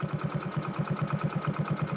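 A newly bought motorcycle's engine idles close by, its steady low chugging pulsing in a quick, even rhythm throughout, with no voices over it.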